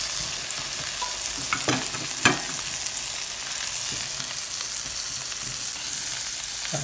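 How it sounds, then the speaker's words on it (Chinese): Parasol mushrooms stir-frying in a hot pan give a steady, close sizzle and crackle, with a few sharper pops and scrapes as they are moved around. "炒一会儿呢"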